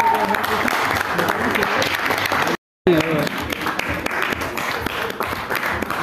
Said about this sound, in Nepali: ताली चाहिँ पिर्नुपर्छ।